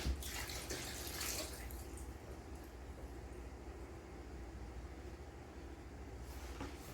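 Water running and trickling steadily off soaked raisins being drained for molasses oatmeal cookies, a continuous close splashing flow that holds through the whole stretch.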